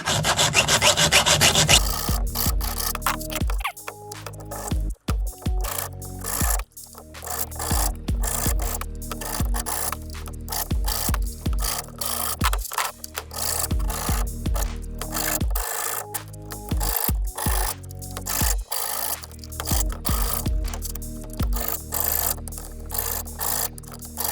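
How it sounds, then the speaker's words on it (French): Hand file rasping across the teeth of a chainsaw chain, a steady series of rhythmic scraping strokes, close and fairly loud, with brief pauses between passes and no talking. "Fait que là, on a limé les dents."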